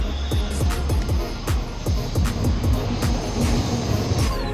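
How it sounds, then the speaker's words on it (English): A Shinkansen bullet train rushes past with rapid repeating clacks of wheels over rail joints and a steady roar, loud and close throughout. "you could spend a bit more and take the Shinkansen, the bullet train"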